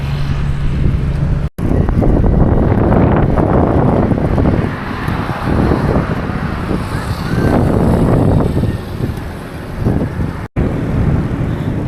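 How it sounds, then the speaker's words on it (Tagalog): Strong wind roars and buffets loudly against the microphone during a solo bike ride on the Sariaya bypass, a heavy rumbling rush that lasts the whole time with no talking. "Grabe, lakas ng hangin."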